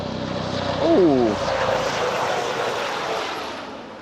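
A helicopter passes overhead, a loud broad rotor and engine roar that swells and then holds steady, with a brief voice heard near the start.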